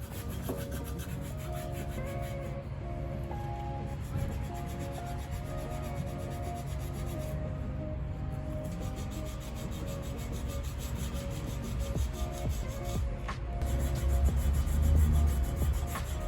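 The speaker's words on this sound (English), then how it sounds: "we're just gonna be wet sanding the surface, trying to get as even as possible" Continuous rubbing and scraping of wet sanding across a wheel surface, a steady abrasive swish with slight rhythmic strokes, close up and fairly loud.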